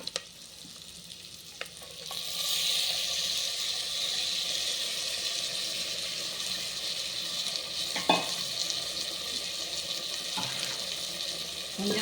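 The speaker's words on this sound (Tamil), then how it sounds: "நம்ம இந்த பேஸ்ட்டை ஊற்றிக்கலாங்க." Tomato paste for a tomato curry (thakkali kuzhambu) poured into a pan, then a steady broadband sizzle and bubbling of cooking that runs close and fairly loud for most of the clip, with a couple of brief clinks and no talking.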